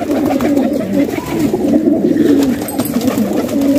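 Fancy pearl pigeons coo continuously nearby, soft throaty calls rolling over each other in a steady, close chorus.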